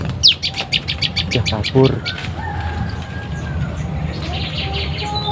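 Small wild birds calling outdoors near a village wedding reception, a quick series of sharp high chirps followed by a rooster-like crow and faint distant whistles, with people talking briefly.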